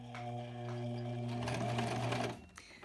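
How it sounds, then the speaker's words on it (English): A sewing machine runs forward in one continuous humming stitch with a steady mechanical whir, close and fairly quiet, stopping abruptly near the end. "And now I'm going to start sewing."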